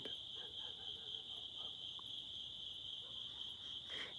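Crickets chirp steadily and without a break outdoors, one dense shrill trill that holds at an even level through the whole stretch, with no voices over it.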